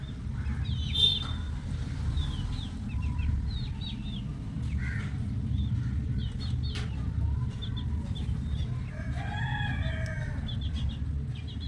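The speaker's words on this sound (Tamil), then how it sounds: "பக்கத்து வீட்டில் உள்ள கோழி." A neighbour's chicken clucks and calls in short bursts over a low steady background hum, with a rooster-like cry and a flutter of wings, moderately near and without talk.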